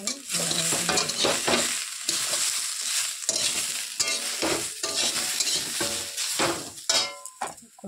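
Spice paste with turmeric and chili powder fries in a pan, a loud close sizzle broken by repeated scraping stirs and occasional utensil clinks, with no speech.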